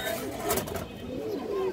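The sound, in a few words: female pigeons cooing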